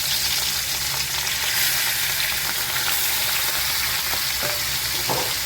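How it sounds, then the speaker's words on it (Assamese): Fish pieces frying in hot oil, a dense, steady sizzle that stays loud and close throughout, with no voices over it. "তেলখিনিও গৰম হৈ গৈছে। এতিয়া তেলত দি দিওঁ এটা এটা কৰি।"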